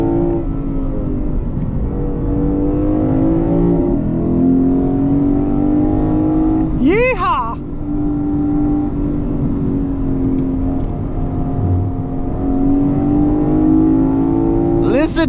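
Lexus IS500 V8 engine pulls hard as the car accelerates, with a steady, loud drone and a couple of quick rising revs as gears change, heard from inside the cabin while someone talks over it.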